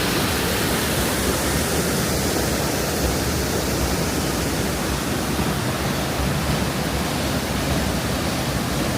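A waterfall in Abruzzo, Italy rushes in a dense, constant roar, loud and close, holding steady throughout with no voices.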